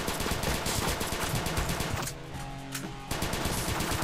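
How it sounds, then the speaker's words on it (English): A plasma minigun fires in Crimsonland, a loud, rapid stream of shots that stops for about a second with a humming lull, then starts up again. "Oh, not the plasma minigun."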